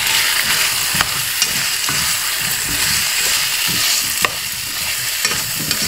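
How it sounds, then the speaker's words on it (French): Coarsely cut courgette pieces sizzle in a hot pan, a loud continuous frying hiss with a few sharp clicks and scrapes of stirring. "Je vais ajouter mes morceaux de courgettes que j'ai coupés grossièrement, un peu trop gros même"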